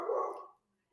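A dog gives a single short bark close by, followed by silence and the start of another bark at the very end.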